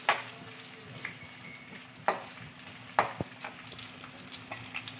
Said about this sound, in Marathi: ह्यामध्ये आता आपण कांदा टाकणार आहोत आणि थोडासा लाल होईपर्यंत असंच परतणार आहोत